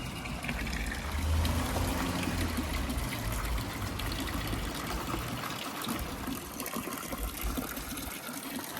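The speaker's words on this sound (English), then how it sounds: "The drinking spout of pure Malvern water is packed direct from 3 springs above the town" Spring water from the Malvern Hills trickles and splashes steadily from a drinking spout, close and continuous with no talking.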